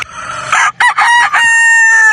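Broodstag gamecock roosters crow loudly and close by, one long drawn-out call with a brief break partway through and no talk over it.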